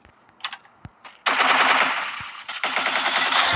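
M10 gun firing in the Free Fire video game: a few sharp single shots, then two long rapid bursts of automatic fire, loud and close, with no talking.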